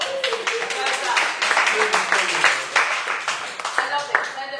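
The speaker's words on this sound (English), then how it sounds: "Round of applause." Applause and clapping fill a songwriting and ukulele workshop room, steady and fairly close for a few seconds, with some voices mixed in.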